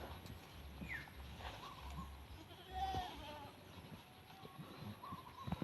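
A female goat in heat bleats on a farm, faint wavering calls recurring a few times against a quiet outdoor background with occasional low thumps.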